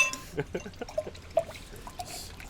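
Barrel-aged Russian imperial stout beer being poured, soft gurgling and dripping with faint glass clinks, under quiet background talk.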